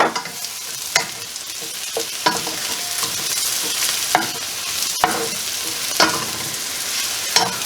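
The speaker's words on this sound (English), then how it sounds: "The onions are sweated, so in goes the mushrooms." Mushrooms tossed into a pan of sweated onions and beef steak drippings for beef stroganoff, a loud continuous sizzle broken by regular spatula scrapes and knocks about once a second, close up with no voices.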